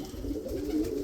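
Roller pigeons coo softly in a loft, a steady low murmuring with no breaks, heard close up.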